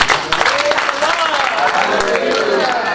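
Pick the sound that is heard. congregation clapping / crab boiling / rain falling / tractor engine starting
congregation clapping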